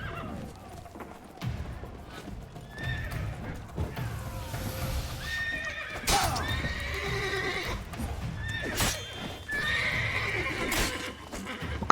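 Horse galloping and neighing in The Witcher 3 Blood and Wine, repeated whinnies over continuous hoofbeats amid game combat noise, fairly close and loud.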